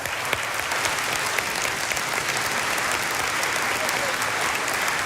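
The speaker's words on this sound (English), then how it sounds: "once they're done clapping" Sustained applause from a conference audience after a keynote address at a policy conference, a dense even wash of clapping with sharper individual claps scattered through, moderately loud and continuous.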